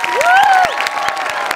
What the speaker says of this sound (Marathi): एकदा जोरदार टाळ्या ह्यांच्यासाठी झाल्या पाहिजेत